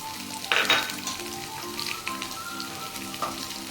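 Small onions sautéing in a pan for a coconut prawn roast give a steady, moderate sizzle with a couple of brief louder crackles, and no voices.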